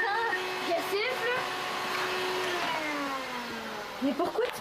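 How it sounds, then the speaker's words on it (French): A vacuum cleaner drones steadily indoors with a shifting whine as it moves, while someone whistles over it and voices break in toward the end. "pourquoi tu passes l'aspirateur, là?"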